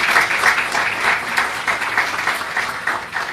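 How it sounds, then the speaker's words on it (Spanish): Audience applause welcoming the Undersecretary of Basic Education as she is introduced at a lecture on violence against women, a steady wash of many hands clapping at moderate loudness with no talk over it. "les pedimos un aplauso muy cálido"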